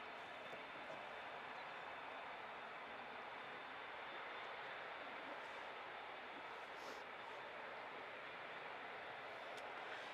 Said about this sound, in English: Emirates going to take off right in front of us.